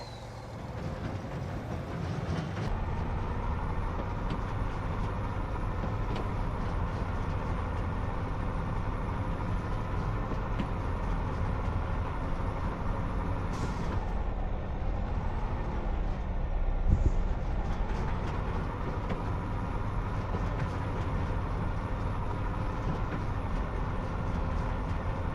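A truck drives back across a farm in Farming Simulator 25, its engine a steady continuous drone at close range, with a brief dip and swell in the middle and no talk over it.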